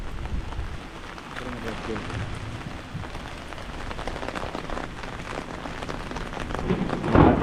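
Steady rain patters on surfaces nearby at Munroe Island, Kerala, with a low rumble and faint voices in the background, growing a bit louder toward the end.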